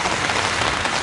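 Heavy rain pours down in Batticaloa, where the downpour has flooded streets. It makes a dense, steady, close hiss of drops striking surfaces, with no voices.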